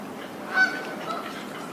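Waterfowl calling nearby, a single short honking quack rising briefly above a steady outdoor background, with a fainter call just after.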